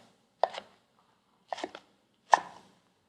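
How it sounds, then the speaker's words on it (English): A knife cutting dense greens into bite-sized pieces on a board, with three crisp, separate chops about a second apart in an otherwise quiet room. "I'm going to make sure to cut these greens up into bite-sized pieces."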